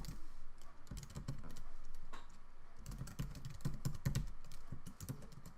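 Keys clatter on a computer keyboard at close range, a quick run of soft clicks, a brief pause, then a second burst of typing.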